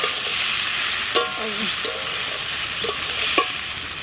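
Vegetables and fresh green chillies with spices stir-frying in a pan, a steady close sizzle broken by a few sharp scrapes and clicks of the spatula, with no voices.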